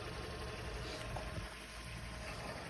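A 2009 Volkswagen Touran engine rumbles at idle, a constant low hum with broadband noise and no change in pitch throughout.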